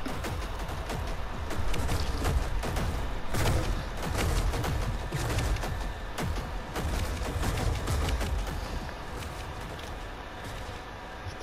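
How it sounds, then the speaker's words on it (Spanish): Dense, continuous gunfire, including sniper shots, crackles throughout a video game battle, with rapid shots and occasional heavier booms layered over a busy, loud battle din. "se escuchan disparos de francotiradores"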